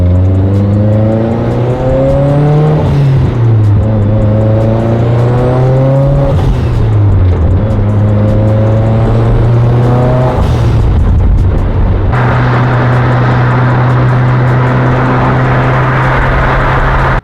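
Mitsubishi Evolution X with a freshly built motor on its first drive, a loud engine pulling hard through several gears, with pitch climbing and dropping at each shift before settling into a steady cruise drone.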